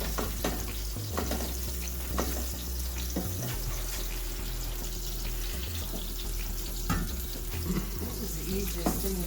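Onions cook in a pan for Greek lentils with noodles, a soft continuous sizzle with occasional clinks and stirring scrapes, fairly quiet and close.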